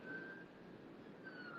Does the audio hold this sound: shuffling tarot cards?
no